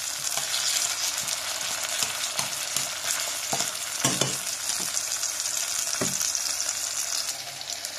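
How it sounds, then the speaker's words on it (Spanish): Tomato fries in a pan for a sofrito for cauliflower soup, giving a constant bright sizzle and crackle with occasional soft knocks and scrapes of stirring. "ahora vamos a dejar pues el tomate que ya está ahí, otro par de minutos que se vaya sofritando un poco"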